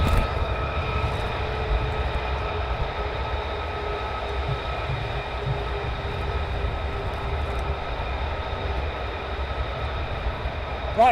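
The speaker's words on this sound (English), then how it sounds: "So you can hear the engine start up off the 494 one that was on hot pitting." A fighter jet engine at RAF Lakenheath spools up during a hot-pit stop, making a loud, sustained roar with a steady whine layered over it that continues without a break.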